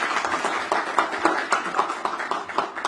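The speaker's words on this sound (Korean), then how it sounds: "그래서 두 분한테 박수 한번 쳐주시죠." Audience applause at a meeting welcoming two youth committee chairs, a steady dense patter of many hands clapping throughout, moderately loud and close, with no talk over it.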